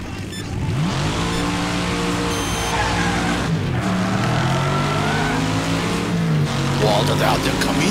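Cars race and skid in the Wreckfest video game, with loud, continuous engine revving and tire squeals sliding up and down in pitch, and voices talking over the action.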